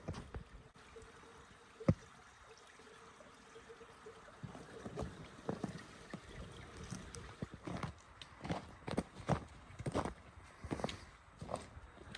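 A small, partly icy mountain stream flows in the winter Catskills with a steady, close, broadband wash of running water, broken by a few sharper knocks and crunches near the middle and end; no one speaks.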